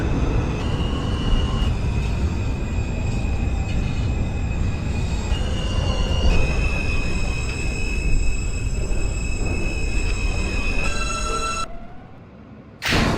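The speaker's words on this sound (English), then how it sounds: "This is a Queens-bound R train via the F line." A Queens-bound R subway train running on the F line in the openBVE train simulator, loud continuous rumble with sustained tonal motor whine and a squeal near the end before the noise briefly drops away.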